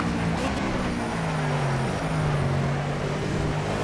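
Ford Fusion NASCAR race car in the Project CARS racing game at Watkins Glen, its engine a steady loud drone with shifting pitch that runs continuously through the whole stretch.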